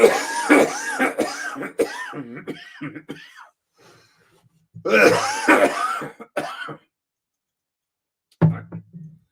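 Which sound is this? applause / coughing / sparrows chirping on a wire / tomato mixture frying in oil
coughing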